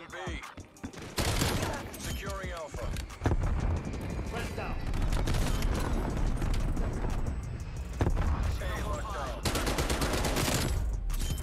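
Dense in-game gunfire from Call of Duty Black Ops Cold War, with rapid bursts and sharp shots packed close together over a constant busy battle backdrop, loud throughout and mixed with a voice talking.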